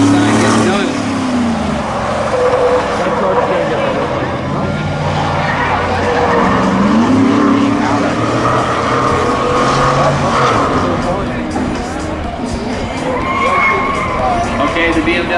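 A BMW races at a truck spectator drag event on a dirt track, its engine roaring and rising and falling over about fifteen seconds amid crowd noise, with an announcer talking loudly throughout.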